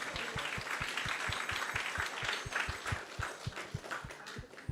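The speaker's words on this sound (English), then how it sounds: "So let's give you all a big round of applause for joining us tonight." Audience at an ISKCON temple feast in Silicon Valley giving a round of applause, a moderate patter of clapping over a steady low rhythmic thump of regular beats, somewhat distant.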